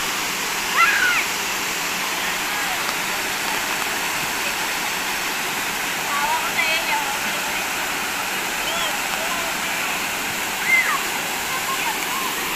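Balite/Arangin Falls, a high waterfall in an indigenous area, pours in a steady broadband rush that fills the scene, with a few brief faint voices or bird-like chirps rising above the constant water roar.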